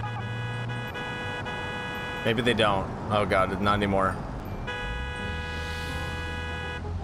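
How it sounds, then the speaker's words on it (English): A taxi's car horn honks in a couple of short blasts amid road traffic, with people talking inside the car around it. "if you honk, they usually pull over"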